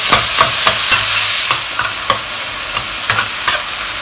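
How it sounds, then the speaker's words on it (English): Minced beef browning in a hot wok, a loud continuous sizzle broken by repeated sharp scrapes and clacks of a spatula stirring the meat. "Just fry them and brown them a little."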